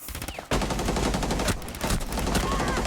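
Rapid gunfire bursts from Rainbow Six Siege gameplay, loud and close, with a sharp onset and a dense spray of shots continuing through the scene amid game noise.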